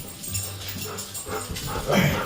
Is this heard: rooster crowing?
no